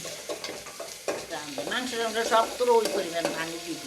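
Fresh spice tempering sizzling in hot oil for Noakhali-style urad dal, a close crackling and spattering sound with stirring noises. A voice speaks over it.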